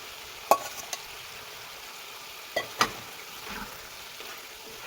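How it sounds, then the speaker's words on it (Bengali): Fried radish is tipped into a pan of cooked spice paste, giving a faint, soft sizzle with a few sharp clacks of utensils against the pan. "মশলা আমার কষানো হয়ে গেছে, এখন আমি ভাজা মূলাটা ঢেলে দিব।"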